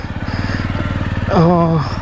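A Jawa 42 motorcycle engine runs steadily close by with a loud, even throbbing pulse throughout, while a person's voice speaks over it near the end.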